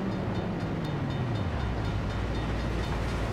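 A train passes in the driving game Forza Horizon 4, a continuous rumbling rail roar with a descending pitch that settles into a steady drone across the whole stretch, with no talking.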